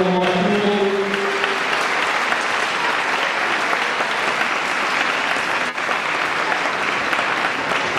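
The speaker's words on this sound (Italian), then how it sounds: "io credo in un applauso" Loud, sustained applause from an audience at a birthday celebration for a museum, a continuous roar of clapping hands that holds steady throughout, with a brief tonal voice or note at the very start.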